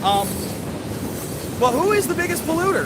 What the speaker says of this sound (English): Sorry about the train, guys. Can't control it.